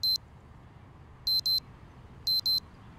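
A wristwatch alarm in the Project Zomboid video game beeps in short, shrill electronic bursts: a single beep, then two quick pairs of beeps spaced about a second apart over a low, steady background hum.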